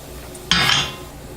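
A pan of bacon lifted off a stovetop, heard as one sharp metallic clank of the pan against the burner followed by a short fading ring, close and alone.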